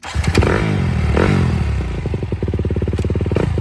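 A Honda enduro motorcycle engine catches with clattering thumps, then settles into a fast, even throttled putter close by, with no voices over it.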